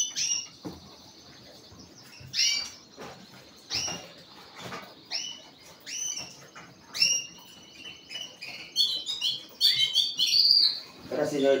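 Small birds chirp and trill in an aviary in repeated high bursts, some calls louder and closer, with brief rustling between them.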